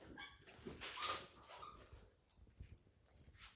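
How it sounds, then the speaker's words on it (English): Dogs put out of the house barking and whimpering outside, faint and distant, a few scattered yips and whines over a quiet room. "we had to put the dogs out"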